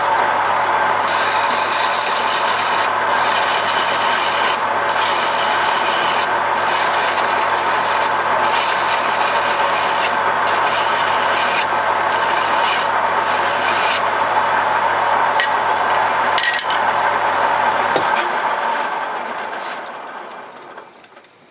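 A 1M61 lathe cutting a thread inside a pipe coupling gives a loud, steady mechanical grinding with rhythmic ratcheting clicks, running continuously before winding down and fading out near the end.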